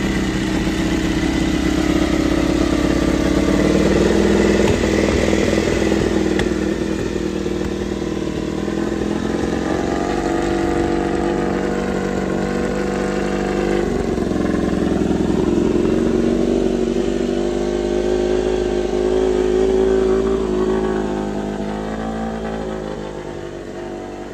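A Honda RC213V-S motorcycle engine, freshly assembled, runs for the first time, a loud steady mechanical drone with rising and falling revs and a clattering edge that holds throughout.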